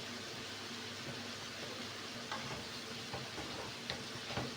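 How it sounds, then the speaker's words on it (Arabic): Shrimp with frozen coriander and parsley are gently stirred in a pan, giving a steady, soft sizzle with faint scraping taps from the utensil over several seconds. "كنخلطو غير بشويه باش ما نرولوش الكروفيت ديالنا."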